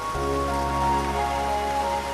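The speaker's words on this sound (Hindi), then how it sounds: "बड़ी जल्दी तुमने हमें बारिश से बचा लिया" Rain falls steadily in a continuous, even hiss with a low, constant hum underneath, and no voices are heard.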